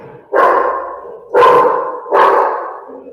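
A dog barks three times in a home, each bark loud, close and evenly spaced about a second apart, with no talking over it.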